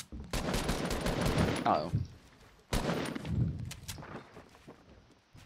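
Rapid gunfire bursts in Fortnite Battle Royale, two loud volleys of shots with a pause between, heard under a player's voice.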